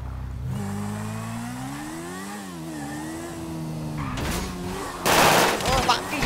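Gunfire in GTA V erupts late as sharp rapid bursts over a droning engine of a BMW 1000 motorcycle or car revving, loud and close.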